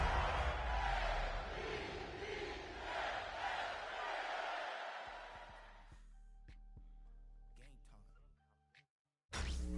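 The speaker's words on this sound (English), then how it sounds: "The bright lights are on, the stage is set, and the crowd is ready." A stadium crowd roars steadily in an EA Sports football video game, then it cuts out to quieter game sounds with faint tones and clicks.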